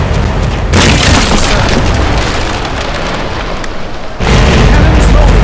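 Chaser cannons aboard a ship fire in the naval game Commander Conquest of the Americas, producing two loud, heavy booms a few seconds apart over a continuous roaring rumble.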